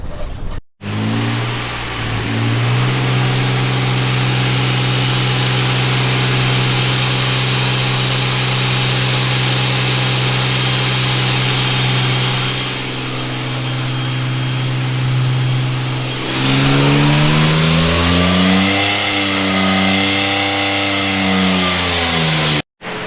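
A turbocharged Nissan 350Z revs hard on dyno rollers, loud and close, engine note holding high for long stretches, dropping briefly, then climbing and wavering again near the end.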